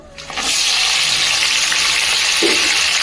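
Tomatoes and dried red chillies hit hot oil and break into a loud, steady sizzle that holds strong and close for the whole stretch.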